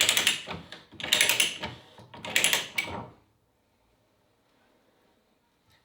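Pipe threader cutting threads on a pipe held in a vise, three bursts of gritty metallic ratcheting and scraping in a row, then near silence.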